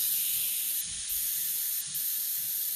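Steam vents from an Instant Pot pressure cooker in a loud, steady, close hiss that continues without a break and has no talking over it.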